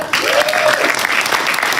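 An audience claps at a Democratic get-out-the-vote rally in Maryland, a steady wash of applause that is fairly loud and close. A voice calls out briefly over it.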